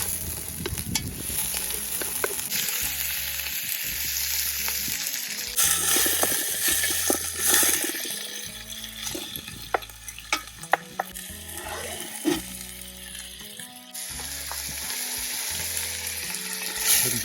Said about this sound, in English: There she is sizzling.